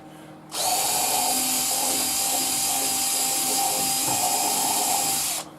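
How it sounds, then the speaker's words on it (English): A power drill pre-drills a pilot hole into wood for a homemade bird feeding station, whirring steadily and loudly for about five seconds before cutting off, with no talking. "So what I'm going to do is pre-drill it."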